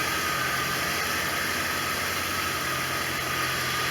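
A 1989 Corvette engine idles steadily after a restart, a constant close mechanical hum with faint rattle and hiss throughout; no voices.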